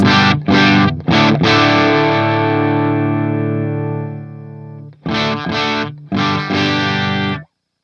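Electric guitar on its bridge pickup through a small Hughes & Kettner Spirit Nano amp, with a few short choppy distorted chords, a long sustained chord ringing out and slowly fading, then another burst of quick stabs before cutting off.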